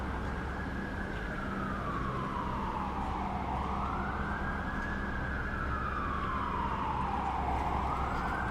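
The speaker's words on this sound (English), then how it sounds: "It is Siren City tonight." Emergency vehicle sirens wail through a downtown Toronto street on a Friday night, a rising and falling tone sweeping in long repeated cycles over steady city traffic rumble, loud and fairly close with no talking.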